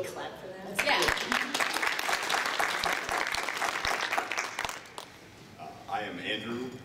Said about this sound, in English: Can we clap for that?